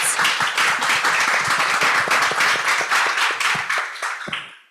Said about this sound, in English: So a round of applause for our 4 panelists.